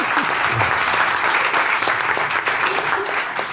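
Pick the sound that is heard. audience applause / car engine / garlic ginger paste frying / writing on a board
audience applause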